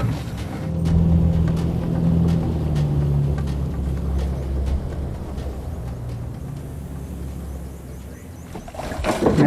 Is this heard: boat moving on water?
yes